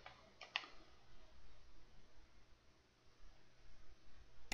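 Computer mouse clicks while setting up a mod manager for Euro Truck Simulator 2: a quick pair of faint clicks near the start, a long quiet stretch, then one sharper click at the very end.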